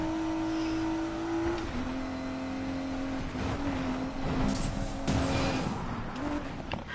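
A Nissan 350Z races through city streets on nitro in Need for Speed Payback, its engine note climbing and dropping through gear shifts, with tire squeals and skids breaking in near the end.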